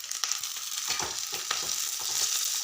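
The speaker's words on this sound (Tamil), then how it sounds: "பச்சை மிளகா, கறிவேப்பிலை போடுங்க." Green chilies and curry leaves frying in oil over softened onions, a close, steady bright sizzle with crackling pops and light stirring, no voices.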